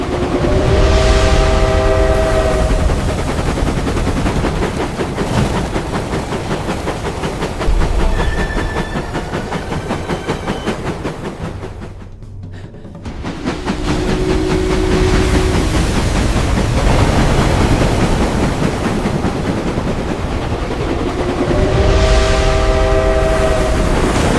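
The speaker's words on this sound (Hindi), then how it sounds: "यहां से जाने वाली ट्रेन सीधा राजधानी की तरफ जाएगी।" Train departing, with horn blasts at the start, a steady rumbling clatter of wagons, a brief lull, then renewed rolling and another horn near the end, loud and close with no talking.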